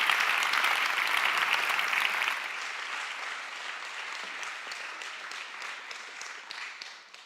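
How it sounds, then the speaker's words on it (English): Steady conference audience applause at an AI summit, dense and fairly loud at first, then settling to a slightly softer continuous patter before tapering off at the end. "Give a big round of applause to Dominic."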